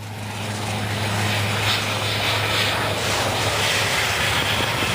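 A Mirage 2000 fighter jet roars steadily during a landing on the Yamuna Expressway, a continuous loud engine rumble with a low drone and broad rushing noise throughout, no voices.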